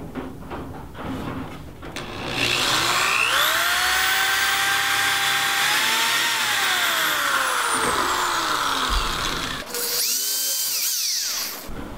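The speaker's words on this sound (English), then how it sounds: "I'm just going to put some pilot holes in with my drill." A power drill boring pilot holes into the edge of wooden boards for a DIY dog crate, its motor whining up loud and steady for several seconds, then slowing and stopping with a brief pitch drop near the end.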